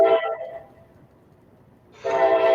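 A train horn sounds loud and near in two sustained blasts, with a quieter gap of low rumble between them and no talk.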